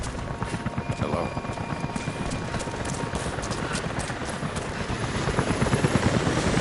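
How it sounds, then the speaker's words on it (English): Helicopter rotors thump steadily in a Rise of the Tomb Raider battle in the Geothermal Valley, the dense chopping growing louder and nearer over the clip, with a voice briefly heard under the noise. "Jacob, helicopters are headed your way."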